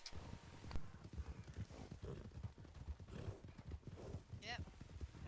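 Horse hooves clop steadily through a nighttime session of a video game, a continuous run of near hoofbeats with a brief whinny near the end, all under lively overlapping talk from several people.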